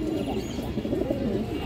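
Pet pigeons in a breeder's loft coo in a dense, continuous low murmur, several birds overlapping close by with no voices.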